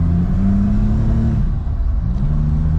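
A turbocharged automatic Suzuki Jimny being driven, its engine giving a steady loud low drone from inside the cabin as the pitch dips briefly and then rises again, with no voices.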